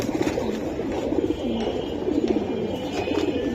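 A large silver Giribaz pigeon coos in repeated throaty rolls, close by and fairly loud over a steady background hum.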